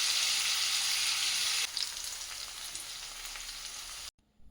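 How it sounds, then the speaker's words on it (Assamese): Raw green banana (kachkol) slices sizzle and fry steadily in a pan, a loud continuous hiss that drops to a quieter crackle partway through before cutting off abruptly. "এইখিনি ভালকৈ ফ্ৰাই হ'ব দিম"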